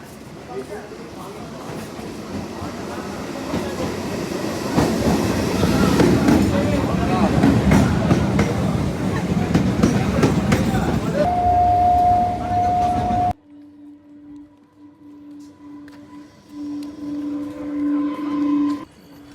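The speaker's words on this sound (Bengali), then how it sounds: "তো চলো ট্রেন আসুক" A passenger train pulls into Guptipara station, a small rural stop in West Bengal, building to a loud, broad rumble of wheels and carriages for about thirteen seconds before an abrupt drop to quieter station sounds with a steady tone.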